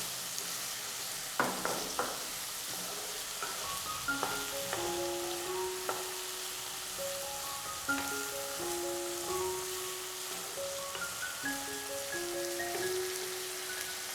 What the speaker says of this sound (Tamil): இந்த நெய்யில் எல்லா காய்கறியும் வறுபடட்டும்